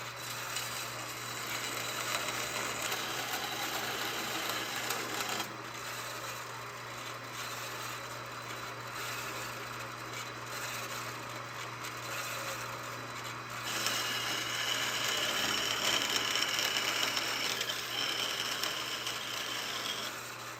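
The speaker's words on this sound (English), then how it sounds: "That's what the grinder's for." Grinder shaping a bull cutter, a continuous steady whine and grind held for the whole stretch, close and loud, brightening and growing a little louder partway through, with no talking.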